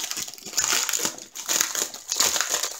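Clear plastic packaging on a diamond painting kit is crinkled open close up, with repeated crisp crackling bursts in an uneven rhythm.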